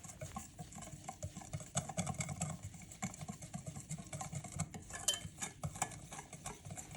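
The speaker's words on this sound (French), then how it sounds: "Mélange bien tes ingrédients secs au fouet." Whisk stirring gluten-free dry ingredients, baking powder among them, in a bowl for a small coffee-and-walnut mug cake: a steady close scraping and tapping of wires against the bowl, fairly quiet, with no talking.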